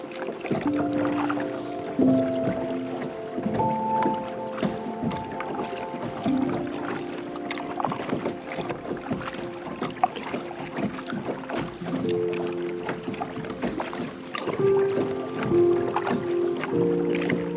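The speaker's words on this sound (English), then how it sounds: "So I'm just kayaking" Paddling a kayak on water in Laos, with soft dips and splashes of the paddle in an irregular rhythm under light wind and faint background tones, close and moderately quiet.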